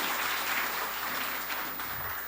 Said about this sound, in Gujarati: પ્રસ્તુતિ માટે બધા બહેનોને જોરદાર તાળીઓથી આપણે વધાવીએ.